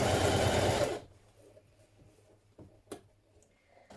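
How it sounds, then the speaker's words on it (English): A sewing machine runs in a fast, close, steady burst while top stitching bias tape binding on a knit dress neckline, then stops, leaving a few small clicks and fabric handling sounds. "Now you turn your bias tape to the inside and top stitch it down like this"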